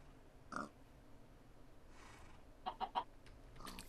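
A Minecraft chicken clucks in short, faint bursts: a single cluck, then a quick run of three, with quiet game ambience between and no talking.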